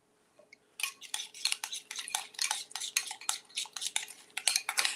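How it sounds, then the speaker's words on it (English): Spoon clinking and scraping in a bowl while stirring homemade Big Mac sauce seasoned with garlic powder, a quick run of close, bright metallic taps repeating steadily for several seconds with no talking. "let's put that in here and stir and see what we get"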